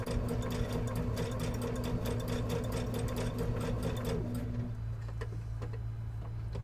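A sewing machine runs steadily, stitching a zigzag around a rope bowl with a fast, even mechanical whir and ticking rhythm, close and alone, and its motor tone changes near the end as stitching slows.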